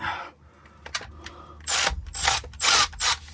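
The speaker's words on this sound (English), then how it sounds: "Again, it's a 3/8 ratchet." A 3/8-inch ratchet works the rear axle drain plug on a 2024 Honda Ridgeline, giving several close, loud bursts of rapid clicking with short pauses between, no voices.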